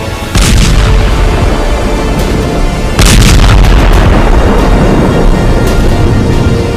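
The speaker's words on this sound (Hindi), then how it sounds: "हिजबुल्लाह के रॉकेट धमाके हाइफा में हाहाकार मचा रहे हैं।" Hezbollah rockets explode over Haifa in a dense, loud barrage of booming blasts and rumbling detonations, with sharp fresh impacts near the start and midway through a continuous roar.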